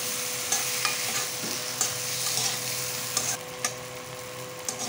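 Jackfruit and potato stir-fried with spices in goat fat, a steady sizzle with scraping stirs of a utensil in the pan, close and continuous with no talk.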